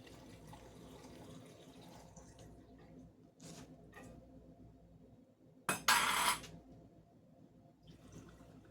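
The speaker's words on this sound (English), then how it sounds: "Water to my jars." Water is poured into canning jars packed with rinsed potatoes, a short loud gushing pour after quieter handling noises and faint trickles in a home kitchen.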